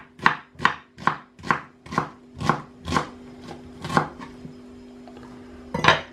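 Onions chopped with a knife on a board, about ten crisp, evenly paced cuts that slow slightly toward the end, close and fairly loud with no talking.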